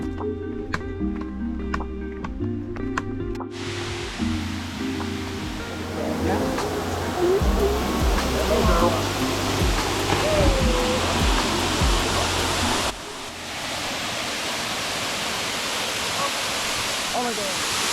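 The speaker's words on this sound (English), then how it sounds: "waterfalls" Waterfall in Siquijor, the Philippines, giving a steady broadband rush of falling water that fills the whole stretch, with faint background voices and a short burst of louder sounds near the start.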